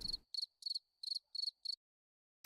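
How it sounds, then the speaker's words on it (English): A cricket chirps in six short, evenly spaced bursts, each a shrill trill, close and clear against near silence. "There's the cricket."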